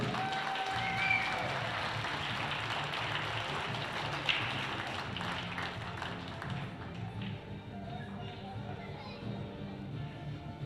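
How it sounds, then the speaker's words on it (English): Audience applause at a professional pool tournament, the Predator Pro Billiard Series in Saint Louis, a broad steady wash of clapping that fills the room and slowly thins toward the end, with faint voices underneath. "One more round of applause for Alex Kazakis and Jasmine Ocean"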